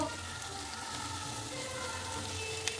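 Spice masala with cumin, coriander and Kashmiri chilli powder sautéing in a pan for matar paneer, giving a continuous close sizzle and frying hiss with a faint stir or tap near the end.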